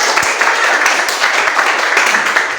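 Classroom audience of teachers and students applauding, a dense steady patter of many hands lasting a few seconds with faint voices mixed in.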